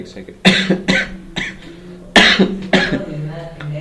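Several harsh, bursty coughs in quick succession, close to the mic, with a throat-clearing rasp between them.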